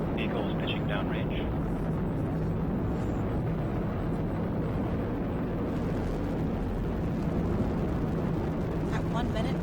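A SpaceX Falcon 9 rocket climbing after liftoff on the CRS-15 launch gives a steady, loud, broadband roar throughout, with faint narration underneath.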